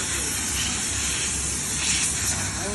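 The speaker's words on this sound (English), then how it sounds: "Now we're going to try the steam." Steam hissing hard from the boiler of a 3-in-1 pressure washer set, hot box with cold water and steam jet: a loud, continuous, even hiss holding steady throughout with no talking.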